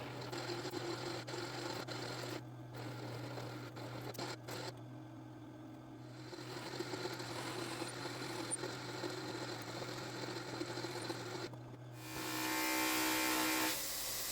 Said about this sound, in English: Going to polish that guard, make sure everything's good and shiny.